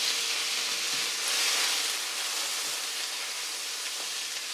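Meat for Zürcher Geschnetzeltes browns in an oiled frying pan, giving a steady, even sizzle that holds without a break, moderately loud and close, with no talking.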